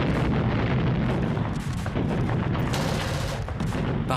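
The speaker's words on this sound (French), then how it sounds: "les péniches de débarquement sont prises sous les tirs ennemis" Heavy gunfire rakes landing craft during the WWII Operation Overlord beach landings, a loud continuous barrage of shots and booms with no break across the whole stretch.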